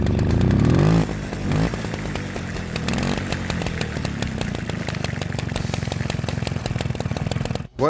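A 1971 Peugeot 102 SP moped, type KSM, with its small two-stroke engine firing up after a brief revving burst, then running in a fast, buzzy, rattling idle, loud and close, with no talking.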